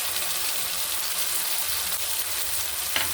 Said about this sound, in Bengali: দিয়ে ভালো করে মশলাটাকে আমি সুন্দর করে এবার কষিয়ে নেব